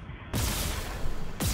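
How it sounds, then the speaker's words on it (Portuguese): A loud burst of gunfire in the video game Dead Space Remake erupts abruptly, a broad blast of noise lasting about a second, followed by another sharp shot at the end. "É só dar um tiro que elas já explodem"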